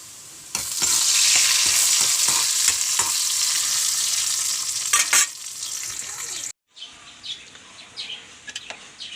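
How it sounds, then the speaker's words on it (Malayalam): Loud, steady sizzling of onions frying in a pan, with stirring scrapes, then an abrupt cut to a quieter sizzle with faint birdsong. "ആ നേരം കൊണ്ട് ഉള്ളി മൊരിയാൻ വെച്ചിട്ടുണ്ട് മറ്റേ അടുപ്പത്ത്"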